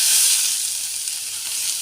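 Grated carrots hit hot ghee inside a pressure cooker for carrot halwa, giving a steady, close, loud sizzling hiss that holds evenly throughout with no talking.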